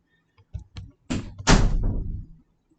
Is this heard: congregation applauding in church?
no